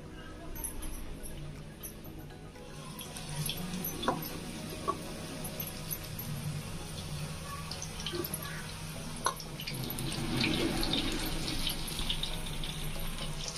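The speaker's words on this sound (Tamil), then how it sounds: "இப்போ வந்து நம்ம தோசைக்கல்லில் எறா போடலாம்" Tiger prawns frying in hot oil on a dosa tawa, giving a steady, fairly quiet sizzle and hiss that swells slightly near the end, with a few sharp ticks and pops.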